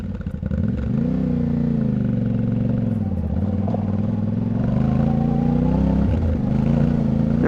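A motorcycle on Bridgestone Battlax Adventurecross tires riding over rough, constantly changing ground, its engine a loud steady drone that dips and rises in pitch, with faint clatter from the terrain.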